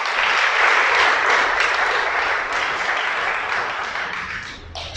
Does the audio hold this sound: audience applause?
yes